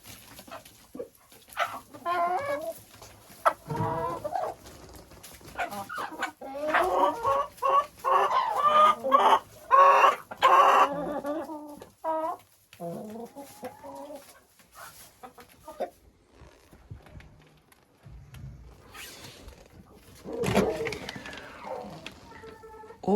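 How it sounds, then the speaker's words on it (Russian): Marans hens in a henhouse cluck and squawk close by in irregular bursts, with busy clusters of calls separated by brief quiet gaps. "Курочка Маран."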